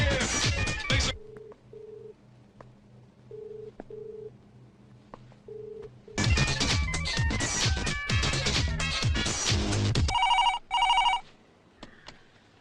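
A telephone rings in a dramatic scene, a soft tone repeating in short paired bursts over a low hum between stretches of loud music, with a brighter electronic ring toward the end.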